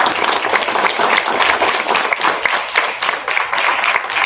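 An audience at a school board meeting gives loud, sustained applause for a district cross country champion, a thick, continuous roar of clapping throughout.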